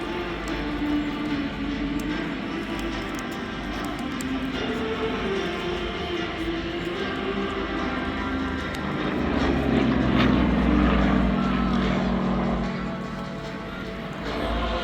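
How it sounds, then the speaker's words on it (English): A Yak-52 propeller plane from a two-aircraft display team flies at the East Kirby Airshow, its engine a continuous droning roar that swells louder near the end as it passes. "Yak-52 that leads the formation"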